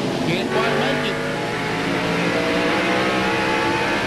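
NASCAR race cars scream around the road course at Watkins Glen in 1997, engines revving and shifting up close and loud, with a commentator talking over the continuous roar.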